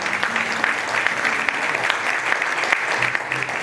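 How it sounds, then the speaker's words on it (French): Sustained audience applause fills a church hall at an 85th-anniversary gala of a Haitian church, steady and dense throughout with no voices over it. "Vos applaudissements s'il vous plaît."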